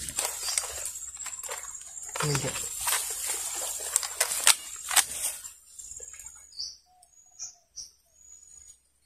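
Short, high chirping bird calls repeat in the background while someone talks, then several clear tweets stand out on their own near the end.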